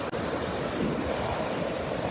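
Shallow ocean water washes and surges continuously around someone wading through the shallows, a steady dense roar with some wind noise on the microphone and no talk.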